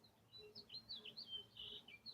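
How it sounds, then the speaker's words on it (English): Birds chirping outdoors on a bright day, a run of soft high tweets and short trills close to the microphone, quiet overall with a faint low background hum. "Oh, the birds are so happy, Zen."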